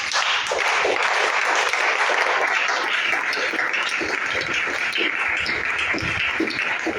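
Congregation at a French-language sermon breaking into loud, sustained applause and cheering, a dense continuous roar of clapping and voices filling the whole stretch.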